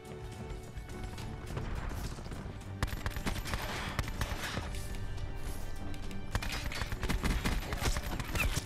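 Dual Bore gunfire in Call of Duty Black Ops 4, sharp repeated shotgun-like blasts and impacts that grow louder and denser, mixed with game clatter.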